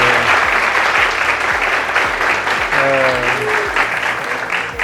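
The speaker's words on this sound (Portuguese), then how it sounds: "uma salva de palmas para o Alex" A loud, close burst of audience applause at a cooking show class, dense clapping throughout, with voices talking and calling out over it.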